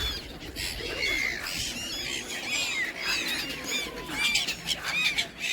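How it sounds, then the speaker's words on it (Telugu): Birds calling near a waterside pilgrimage spot at Somnath, with pigeon-like coos and shrill chirps layered over a busy outdoor hum, fairly close and continuous, with no talk. "చూడండి చాలా పక్షులు ఉన్నాయి."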